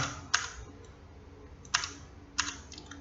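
Keys are pressed on a computer keyboard in a quiet room: three sharp, close clicks spaced about a second apart, faint and alone.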